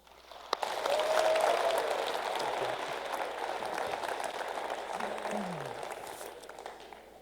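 An audience applauds to welcome lecturer Dr. David Rodin at the 2016 Stutt Lecture, with a sustained clapping from a large hall that swells after a sharp opening clap and stays steady, plus a brief murmured voice near the end.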